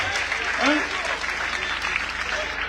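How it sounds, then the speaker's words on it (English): Sustained applause from a crowd, steady and dense throughout, with a voice briefly heard over the clapping. "Clap for her. Clap for her."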